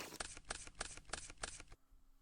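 Yu-Gi-Oh! cards riffled in a quick shuffle, five crisp rhythmic bursts close up, then stopping abruptly into quiet.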